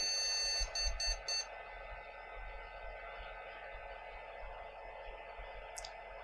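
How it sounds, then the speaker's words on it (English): A retro computer motherboard gives a quick series of short electronic beeps as a memory error code near the start, then a steady electrical hum continues with a faint chirp near the end. "So this should beep, and it should give us an error code for memory."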